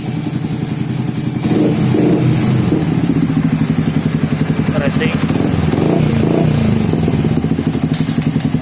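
A Yamaha New Vixion fitted with a black 3tech Ronin Katana SE full-system aftermarket exhaust revs loudly and repeatedly at close range, its throaty rumble rising and falling in bursts, with a voice talking over it.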